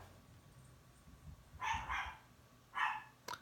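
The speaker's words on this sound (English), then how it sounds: "I do not know why my dog is barking" A dog barks twice in short double bursts from a short distance indoors, followed by a sharp click, against a quiet room hum.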